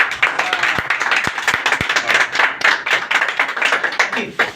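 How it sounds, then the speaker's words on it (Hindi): Lively applause from a group, dense clapping with a few louder single claps near the start, with some voices mixed in. "रेहान के लिए भी तालियां होनी चाहिए"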